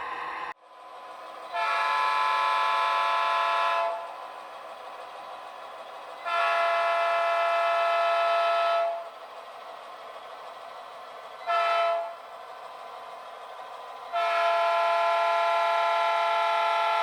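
On a train layout, an Athearn Genesis GP38-2 model diesel locomotive blows its horn in a long-long-short-long pattern of clear tones, with a quiet engine drone between blasts.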